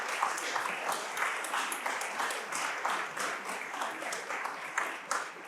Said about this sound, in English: May we please have another round of applause for both of our esteemed honorees, Dr. Ahmad and Mayor Frey.